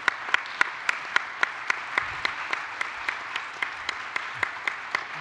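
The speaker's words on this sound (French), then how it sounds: "Monsieur donc Gilles Cavreuve, qu'on peut applaudir pour sa présentation du bilan." A seated audience in a formal French public session applauds after a presentation, steady, even hand claps continuing throughout at moderate loudness.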